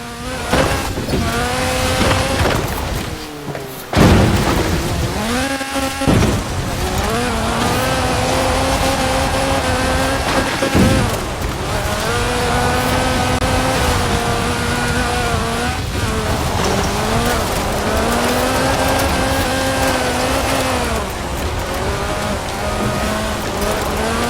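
A 1979 Lotus Sunbeam races in Forza Horizon 4, its engine loud and close, revving up and down through gear changes with a few sudden drops, tire noise and a rain-like hiss beneath.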